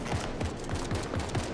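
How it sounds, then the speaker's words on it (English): Rapid bursts of gunfire in a Fortnite match, repeated shots roughly every fifth of a second in a steady fusillade, loud and continuous with no talk over them. "I don't think he can hear me with the gunfire."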